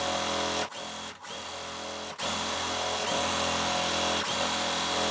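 A sewing machine stitches quilt block pieces together, running in a steady close whirring buzz, broken by a few brief pauses and stops.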